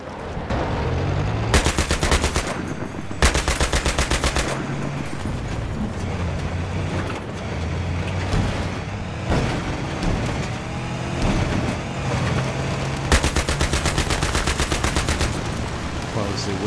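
Loud bursts of automatic gunfire from the military shooter Battlefield 3 come in several long rapid strings, over constant vehicle rumble and battle noise.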